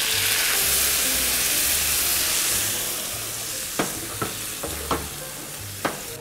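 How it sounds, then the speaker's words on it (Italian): Spicy sauce hits potatoes frying in a pan with a loud, bright, hissing sizzle that slowly eases, followed by a few sharp spoon knocks and scrapes against the pan. "Ora è il momento di aggiungere la salsa piccante che abbiamo fatto prima."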